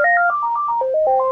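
A phone ringtone plays a short, loud run of clean electronic melody notes, stepping down and back up in pitch, heard alone without speech.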